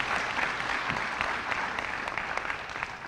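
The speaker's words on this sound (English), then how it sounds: "Let's give her a big round of applause." Audience applause at a veterans wartime service medal ceremony in Hamden after a high school student sang the national anthem: a dense, steady wash of clapping from many hands, with no talk over it.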